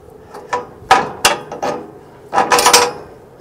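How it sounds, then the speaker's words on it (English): A bolt being pulled from the linkage of a metal Q-Catch cattle head gate: a series of loud, close metallic clanks and rattles in uneven bursts, with no talk. "So take out your longer bolt here."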